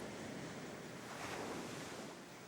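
Atlantic Ocean surf along the Gabon coast gives a steady, broad wash of breaking waves mixed with wind rumble, constant and fairly distant, with no voices.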